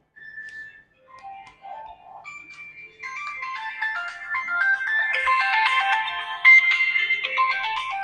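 A mobile phone plays a melodic ringtone, starting with sparse whistle-like notes and swelling into a busier, louder tune that keeps ringing steadily and close by, with no talk over it.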